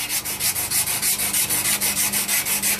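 Rhythmic rasping of a rotating drum sander with 400-grit paper grinding a knife blade, pulsing in quick regular strokes over a low motor hum.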